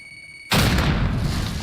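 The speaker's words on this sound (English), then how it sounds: "Grenade out." A grenade explodes in Call of Duty Modern Warfare: a sudden loud blast erupts after a brief quiet, then a dense roaring rumble sustains through the rest, close and dominant with no talk.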